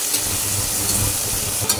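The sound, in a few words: tomato added to frying onion, mustard seeds, cumin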